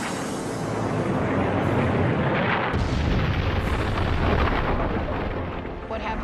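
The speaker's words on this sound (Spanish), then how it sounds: "Produce una gran explosión." A large explosion from a celestial body impact, a loud sustained roaring blast with a sharp onset partway through that thickens the low rumble, holding steady for several seconds before easing off.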